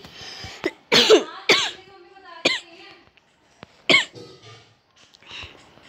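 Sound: person coughing

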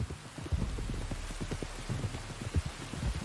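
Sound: rain falling in video game Red Dead Redemption 2

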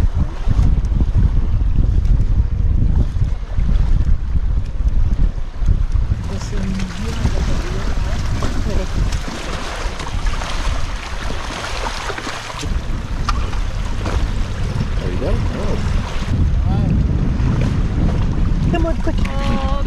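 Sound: wind blowing on the shore at low tide

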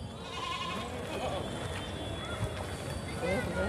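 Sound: goats bleating at a goat market

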